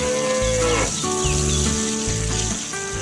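Cows on a sunny farm give loud, close, drawn-out moos, several calls in succession with short gaps between them and no talking.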